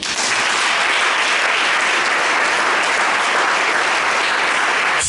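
A church congregation applauds in praise of God, dense continuous clapping from many hands that fills the room at a steady loud level throughout, with no voices rising above it.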